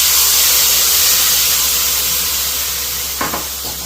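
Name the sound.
tamarind water sizzling in pan with fried peanuts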